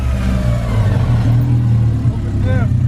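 A Porsche 944 race car engine runs loud and close, with low rumbling harmonics and a rise in revs partway through, while people talk over it.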